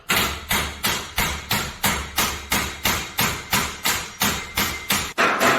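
Hammer striking a garage door spring during an overhead door spring job, a loud, close series of about fifteen evenly spaced metallic blows in a fast, regular rhythm.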